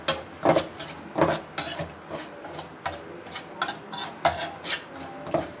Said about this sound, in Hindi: सूजी में हम मुसलसल चम्मच हिलाते रहेंगे ताकि नीचे से जले नहीं, और इसको हम भूनते रहेंगे